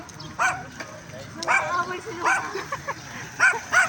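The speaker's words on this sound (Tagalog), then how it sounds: "Kinakahol tayo" A small pet dog barks repeatedly, five or so sharp, close yips spread across a few seconds with quiet voices and room noise between them.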